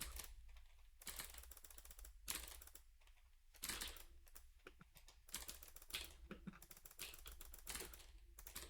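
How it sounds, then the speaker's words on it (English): Quiet computer keyboard keys clatter in irregular bursts of quick presses during a game, with short pauses between clusters. "Sometimes you heard my keyboard press there."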